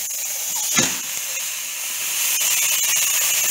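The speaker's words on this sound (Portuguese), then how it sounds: "agora eu vou colocar a carne para dourar na panela" Beef browns in a pressure cooker pot, giving a steady sizzling hiss with a brief thump near the start before the frying grows slightly louder.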